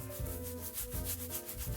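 Fingertips work shaving lather into the hair and scalp of a mostly bald head, giving a soft, continuous wet rubbing with a gentle back-and-forth pulse, close and intimate, with no speech.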